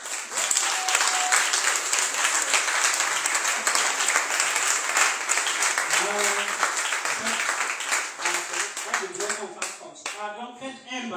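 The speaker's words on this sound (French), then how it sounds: "Je vous demande de les applaudir." Applause from a church congregation at Sunday Mass for the choir and organist, dense sustained clapping filling the space and tapering toward the end, with a few voices talking underneath.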